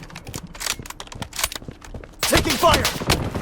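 Rapid bursts of gunfire in the video game Bloodstrike crackle in quick volleys, loud and close, with a dense sustained stretch near the end; someone talks excitedly in between.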